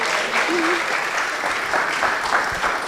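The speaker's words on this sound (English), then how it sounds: "Please, a round of applause for them." Steady applause from a crowd at a business forum fills the room, dense and continuous clapping with a brief voice heard faintly beneath it.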